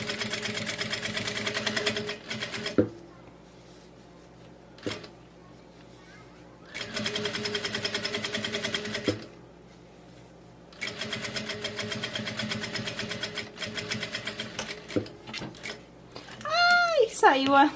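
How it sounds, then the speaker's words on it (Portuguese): A sewing machine topstitches a seam on a handmade bag. It runs in several bursts of rapid whirring, with quiet pauses between them and some handling noise at the end. "vou abrir e vou rebater a minha costura"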